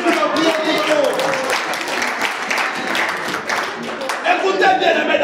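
A church congregation applauds and acclaims the Lord, dense clapping and cheering filling the room steadily from start to end, with voices mixed into the crowd noise.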